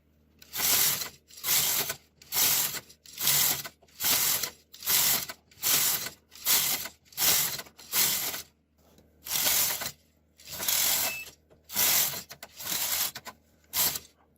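An SK560 knitting machine carriage pushed back and forth through a tuck pattern, producing a regular series of about a dozen loud ratcheting, clattering passes separated by brief quiet gaps, close by and without voices.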